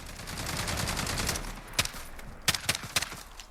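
Several sharp L85A2 assault rifle shots from Call of Duty Modern Warfare ring out in irregular bursts, loud and close, following a stretch of denser rattling fire.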